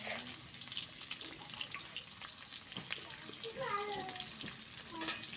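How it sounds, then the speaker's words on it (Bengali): Bay leaves sizzle softly in hot oil in a wok, a quiet crackle with a few light scrapes and clinks. "এই যে চিকেনের জন্য কড়াই বসিয়ে দিয়েছি তেজপাতা দিয়ে দিলাম"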